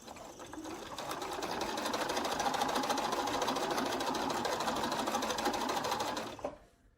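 A sewing machine stitches a quarter-inch quilt seam, matching seam to seam, in one steady, fast, rattling run that lasts several seconds and then stops.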